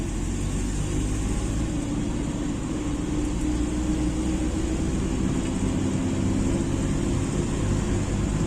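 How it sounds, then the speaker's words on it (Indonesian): Car engines idle and roll with a steady low rumble as vehicles load onto an overnight ferry from Labuan Bajo to Surabaya, a continuous loud machinery drone throughout with no talking. "Mobil mulai diarahkan menuju kapal."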